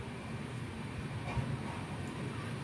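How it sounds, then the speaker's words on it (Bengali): Sikkim Mahananda Express (15483) pulling out of platform 2 at Alipurduar Junction, its steady low rumble and wheel noise filling the whole stretch without a break, close and even, with no voices. "ট্রেনটি আলিপুরদুয়ার জংশনের 2 নম্বর প্ল্যাটফর্ম থেকে ছেড়ে দিল।"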